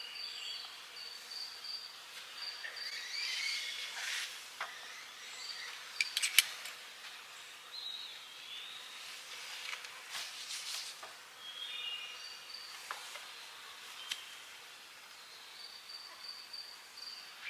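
Bees work over empty hive frames outdoors, a faint, soft scatter of buzzing and small ticks and clicks with occasional brief louder passes near the listener, steady and quiet throughout.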